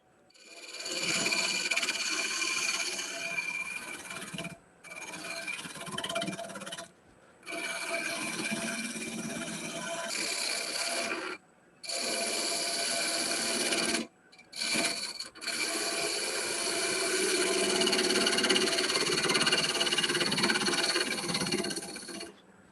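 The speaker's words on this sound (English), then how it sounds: "I'm just using a skew on it" Skew chisel shaving a wooden travel cup spinning on a lathe, producing bursts of scraping, hissing cuts separated by brief silent pauses as the tool lifts away, close and moderately loud.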